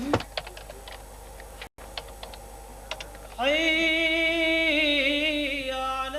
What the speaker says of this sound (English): finally it has to be typed